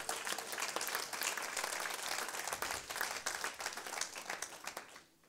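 A church congregation at a sermon claps together in a dense, continuous patter that holds steady, then tapers off and stops near the end, with no speech.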